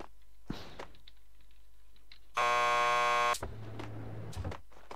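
A door buzzer at a police lockup in Max Payne 2 gives one harsh, loud electronic buzz of about a second, between clicks and clunks of movement.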